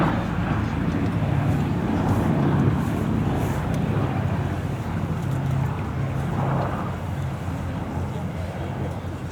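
Piston engines of the B-17 Flying Fortress Sally B drone steadily at the Duxford Autumn Air Show, a continuous low rumble with wind buffeting the microphone and voices talking over it throughout.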